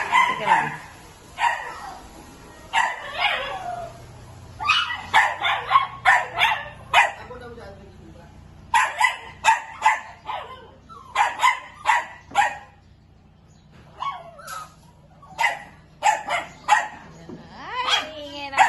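Pet dogs at a Filipino house blessing bark repeatedly in sharp, loud bursts, with some yips between them and voices talking underneath.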